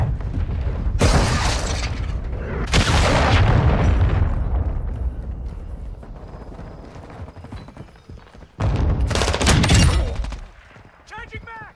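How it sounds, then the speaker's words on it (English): Flash grenade and gunfire in Modern Warfare II, several loud bursts and blasts with shattering noise spread across the stretch amid busy game sounds, with voices speaking over parts of it. "Throwing flash grenade!"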